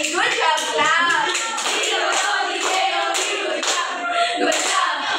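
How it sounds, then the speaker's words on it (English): A multigrade classroom of children claps together in a loose, rhythmic burst of hand claps, mixed with children's voices chanting along, close and lively throughout. "let's give everyone a good job clap"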